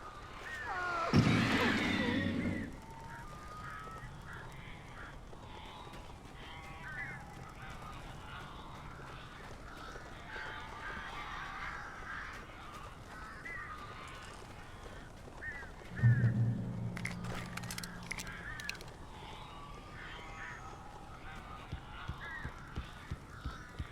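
Crows caw in the Alan Wake video game, with two loud bursts of harsh calls about fifteen seconds apart. Quieter ambient game sound fills the long stretch between them.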